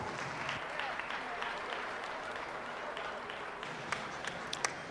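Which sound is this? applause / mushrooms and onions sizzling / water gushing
applause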